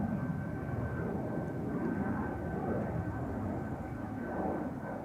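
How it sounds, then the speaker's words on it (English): A United Airlines Boeing 767 on its takeoff run from Schiphol's Polderbaan runway 36L, heard as a steady, distant jet roar with a thin high whine over it that stays even throughout. "United Airlines flight 947 in the foreground. That's the second 767 of today's show."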